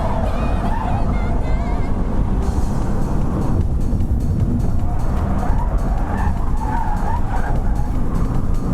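A 2020 Honda Odyssey minivan is driven hard on a winding mountain road, its engine droning loudly while tires squeal and skid through the corners in a continuous, close-up roar.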